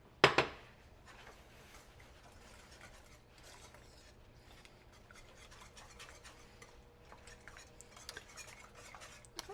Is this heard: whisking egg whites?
yes